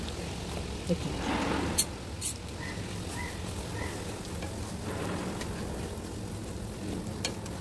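Garlic frying in a pan, a low steady sizzle with scattered scraping and clinking from stirring, a few sharper knocks early on.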